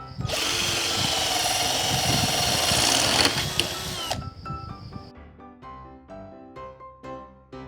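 A power drill boring into a plastic four-way pipe fitting for a homemade garden hose reel, loud and close with a sustained high whine for about four seconds, then stopping, followed by soft handling clatter and music.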